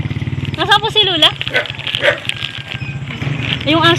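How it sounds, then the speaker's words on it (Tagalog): A dog barks at visitors arriving at a house, a few sharp barks mixed in with people talking nearby and a low steady hum underneath. "Yung aso baka mangagat."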